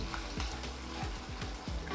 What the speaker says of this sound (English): you will stir the butter until it become caramelized in color